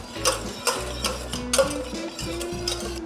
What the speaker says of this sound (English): And you just keep whisking the butter around.